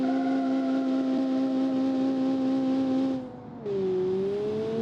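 A powerful front-wheel-drive racing hatchback on slick tires holds a steady high-pitched engine whine, briefly dips as revs drop, then settles into a lower, steady drone.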